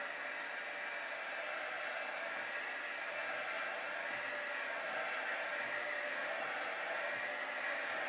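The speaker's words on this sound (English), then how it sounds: "I'm using my embossing gun. I just want to really zap this" An embossing heat gun blows steadily while drying a craft piece, a soft, even hiss of rushing air that runs unbroken for about eight seconds with no other sounds.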